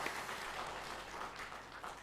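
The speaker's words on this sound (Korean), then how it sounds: "박수로 맞이하시겠습니다." A church congregation at a Sunday worship service applauds to welcome a newly registered member, a soft, distant, steady patter of clapping lasting about two seconds.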